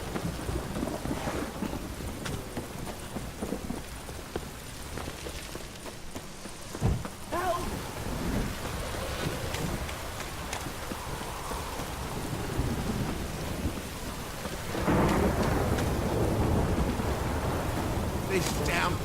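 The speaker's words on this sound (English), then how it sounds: "This downpour's a bastard," Heavy downpour with rolling thunder in the video game The Witcher 3: Wild Hunt, a loud continuous hiss of rain with deep rumbles and a sharp crack partway through, intensifying toward the end.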